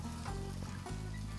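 Oil sizzles on a Blackstone griddle, a close, steady frying hiss over a low electrical hum, continuous throughout with no speech.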